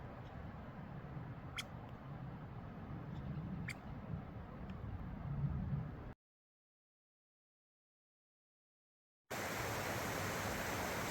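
A shallow mountain stream rushing over many rocks along the Continental Divide Trail in North Carolina, a steady broadband roar with faint high squeaks on top, cut off by a few seconds of silence before the rushing resumes brighter.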